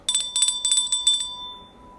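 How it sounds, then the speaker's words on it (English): A small bell rings in quick repeated bursts, about five bright dings in a row, then a fading ring with no talking. "Let me give you a bell ring there, Donald."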